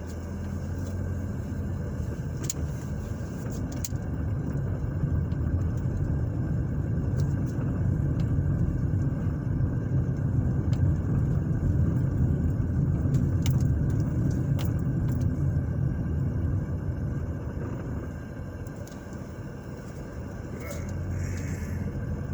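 Car driving down South 16th Street on the south side of Terre Haute, Indiana, heard from inside as a steady low road rumble and engine hum that swells and eases, with a voice speaking at times.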